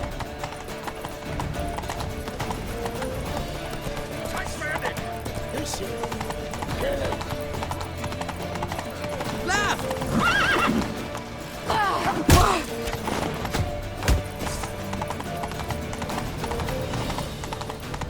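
Hooves clip-clop rapidly in a steady galloping rhythm, with a horse neighing and shouting voices mixed in, from the video game The Witcher 3: Wild Hunt.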